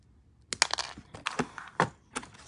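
Wire cutters snip wire for a wire-wrapped pendant set with five gemstone beads, giving a close series of sharp clicks and crisp snaps with no voice.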